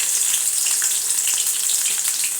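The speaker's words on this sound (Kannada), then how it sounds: "ಇವಾಗ ಎಣ್ಣೆ ಕಾದಿದೆ, ಈರುಳ್ಳಿ ಹಾಕ್ಕೊಳ್ಳಿ" Onions frying in hot oil in a pan, a steady dense sizzle that runs evenly and fairly loud throughout, with faint crackles and no voices.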